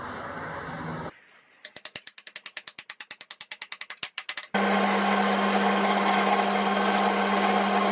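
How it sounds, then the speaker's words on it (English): A tap is turned by hand into 5mm holes drilled for a lathe headstock handle, giving a quick run of sharp ratcheting clicks up close, followed by a steady whirring hum. "Just tapping the 5mm hole into the 2 holes that I've just drilled."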